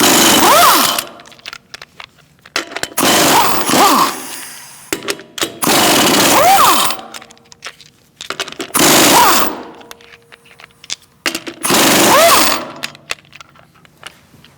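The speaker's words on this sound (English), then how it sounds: "Now we're going to remove our lug nuts." An impact wrench takes the lug nuts off a front wheel of a 2016–2019 Chevrolet Cruze. Five loud, close bursts of rattling hammering each last about a second, with quieter clanks and handling noises between them.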